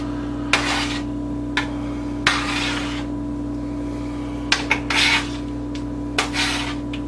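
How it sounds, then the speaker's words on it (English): A spoon scoops cooked onions onto raw burger meat for copycat White Castle burgers, giving a few short scraping rubs spread across the stretch over a steady background hum. "we're going to take a spoon and we get all those onions, dump them up on top of the meat"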